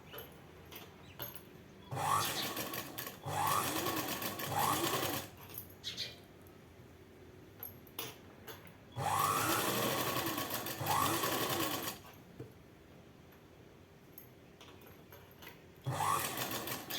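A sewing machine stitches thread piping onto a neck cross piece for a tailored garment, running in several bursts of steady rapid whirring separated by short pauses, close and clear with no talk.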